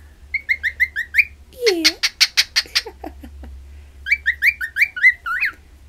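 Pet cockatiels give bursts of rapid, bright chirps, a swooping call and a string of sharp repeated notes, close and loud, with a person speaking briefly between the calls.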